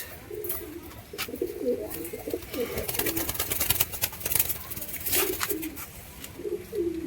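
Fulshira Giribaz pigeons coo in soft, low, repeated calls close by, with scattered rustling and flapping sounds mixed in.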